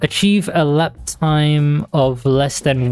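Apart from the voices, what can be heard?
None of the usual background noises is heard.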